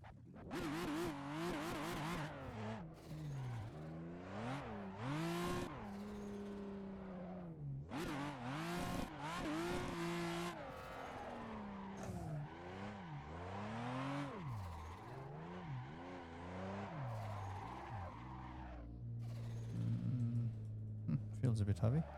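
A turbocharged race car on slick tires in the Assetto Corsa driving game, its engine revving up and down in constant sweeping pitch changes with tire squeal from drifting, continuous and fairly quiet overall, with someone talking over it at times.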